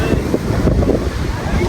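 Sea waves wash in at the rocky shore near Dwarka by the Badkeshwar Mahadev shrine, a loud close rush of surf mixed with heavy wind buffeting the microphone.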